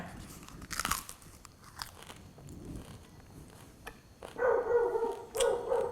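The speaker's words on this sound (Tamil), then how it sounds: "இதை வந்து நாம் என்ன பண்ணுறோன்னா மென்னுட்டு பேசுகிறேன்" Close, moist crunching comes from someone chewing betel leaf, with irregular bites and soft mouth noises that grow louder toward the end, and no speech over them.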